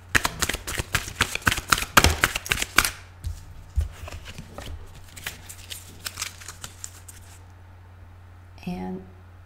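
Tarot cards shuffled by hand in quick, close riffling bursts, loud at first then thinning into scattered softer snaps, with a brief voice near the end.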